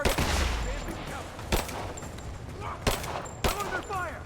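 Gunfire in the Rise of the Tomb Raider video game, with several sharp shots ringing out at intervals over a busy battle backdrop while voices talk throughout.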